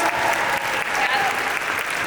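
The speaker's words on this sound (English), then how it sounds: "Can I ask you all to give a huge round of applause to all the volunteers, the participants" A crowd gives a round of applause for event volunteers and participants, dense steady clapping that fills the room at moderate level, with no voices standing out.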